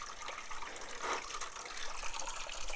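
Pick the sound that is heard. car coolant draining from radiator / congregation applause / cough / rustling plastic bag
car coolant draining from radiator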